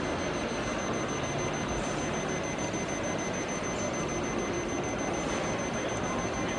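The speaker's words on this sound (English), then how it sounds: "So the only way to disable this alarm is to close the door." A LILIN access-control door-open alarm, triggered by a door left open, sounds a steady high-pitched continuous tone over loud trade-show hall noise at Intersec Dubai 2019.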